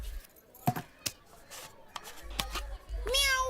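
A person imitates a cat's meow with a short, rising and falling whine near the end, after scattered soft clicks and knocks in a quiet room.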